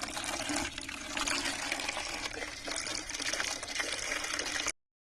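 Water splashing and trickling as garden plants, including aubergine plants, are watered by hand, loud and continuous before stopping abruptly at the end.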